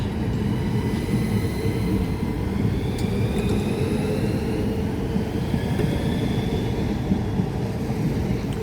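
A train passes through Ashford International station with a continuous rumbling roar of wheels and carriages, steady and fairly close throughout, with faint rail squeals above it and no talking.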